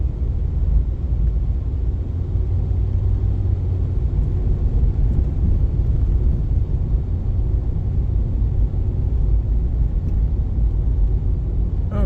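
Road traffic moving in and out of a newly connected older subdivision: a continuous low rumble of passing vehicles that stays fairly loud and even throughout, with no voices.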